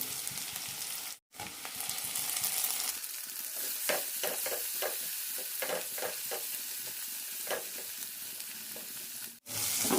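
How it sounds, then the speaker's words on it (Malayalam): Small onions, curry leaves and tomato sauté in a pan for a raw banana veg fish curry, a steady close sizzle broken by repeated stirring scrapes, with two brief silent gaps. "ചെറിയ ഉള്ളി ചെറുതായി ചോക്കുന്നത് വരെ വഴറ്റാം"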